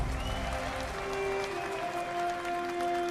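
An audience at a Las Vegas stadium groundbreaking event claps to welcome the NFL commissioner on stage, a fairly faint, even wash of applause under a steady tonal hum from the venue's sound system.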